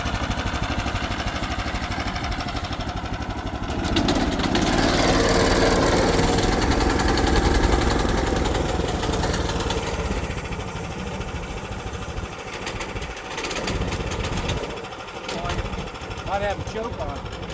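Sawmill engine started and settling to a steady idle, a continuous close rumbling drone with slight swells in loudness, while a person talks over it.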